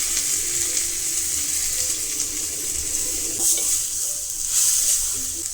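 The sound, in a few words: grated coconut frying in melted ghee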